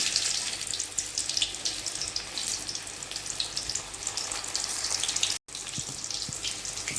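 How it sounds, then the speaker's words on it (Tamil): Thin wheat flour snacks deep-frying in hot oil, a steady bubbling hiss close by with a brief drop-out near the end, no speech. "இப்போ நம்ம ரெடி பண்ணி வச்சதை அதில் போட்டு ஃப்ரை பண்ணி எடுத்துக்கலாம்"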